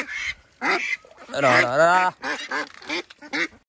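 Duck quacking in loud, nasal bursts up close while being weighed on a farm, several honking calls in quick succession including one drawn-out call.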